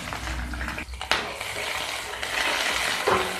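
Onions frying in oil with garlic and chopped green chilli for a cauliflower chilli gravy, a steady close sizzle with occasional stirring scrapes and a sharp clatter of a utensil against the pan.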